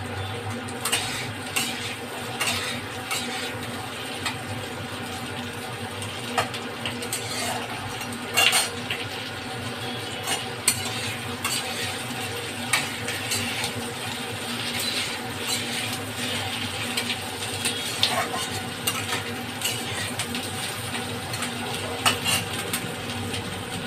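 Onions are stirred in a pan, with quiet, irregular scrapes and taps of a utensil against the pan over a soft, steady frying hiss.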